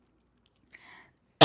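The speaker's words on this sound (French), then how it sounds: "Excusez-moi, je vais tousser un petit peu." A woman gives a single short cough at moderate volume, followed after a pause by a louder, abrupt burst at the very end; otherwise quiet.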